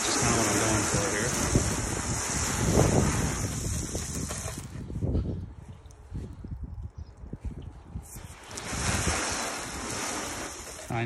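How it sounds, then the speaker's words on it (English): Garden hose giving a gentle, lower-pressure rinse to the paint of a 2015 Toyota Tundra CrewMax TRD, a steady broad spray that drops away midway and then returns, close to the microphone. "My new hose has a little less pressure, but it actually is nice because it's less paint, you know, less pressure on the paint, so it's a nice gentle rinse"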